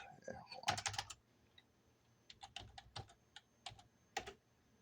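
Keys clatter on an old Dell computer keyboard as a password is entered, a quick burst of close clicks, a pause, then several more scattered keystrokes.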